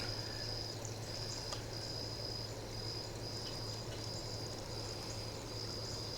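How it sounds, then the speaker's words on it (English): Steady splashing and trickling water from a garden fountain runs throughout, with a high, constant insect chirr over it. "I love the water sound over there of the fountain."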